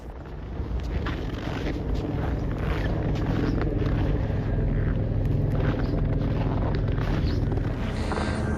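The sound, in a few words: wind blast from an avalanche in a valley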